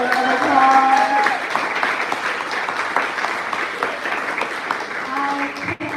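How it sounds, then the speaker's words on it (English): A live studio audience applauds businesses in one long round of steady clapping that fills the whole stretch, close and loud, with faint tonal sounds briefly above it. "help me give all these businesses one more giant round of applause."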